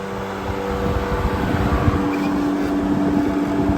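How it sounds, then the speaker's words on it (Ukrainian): A Shifeng 350L tractor engine drones steadily at high revs while the wheels slip, close by, with a constant rough rumble and faint whine, sustained without letting up. "Трактор дуже сильно буксує, от постійно даю газу"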